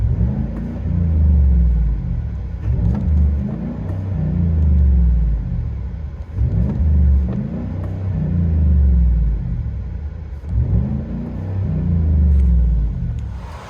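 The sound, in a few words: 2019 GMC Sierra 5.3L V8 Flowmaster Super 10 exhaust, inside cab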